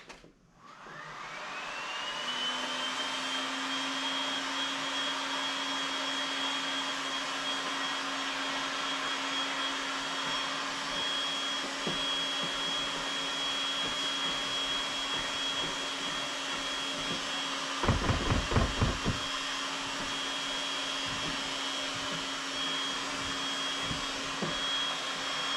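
A heat gun blows steadily on the bumper of a 2018 Dodge Charger Hellcat during dent repair, a constant high whine and rushing airflow with a brief bumping handling noise near the end, heard alone without voices.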